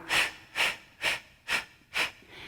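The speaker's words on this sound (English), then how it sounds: "And it's a very staccato, short breath." Five short, sharp Pilates breaths exhaled through the mouth in an even staccato rhythm, each a close, breathy burst with brief gaps between, a fainter sixth trailing off at the end.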